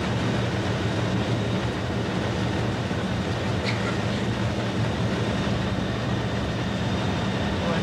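Steady rumble and rail noise from a Class 47 diesel locomotive cab riding between Bredbury stone sidings and Stockport, a continuous low drone with wheel clatter running throughout, with no talk.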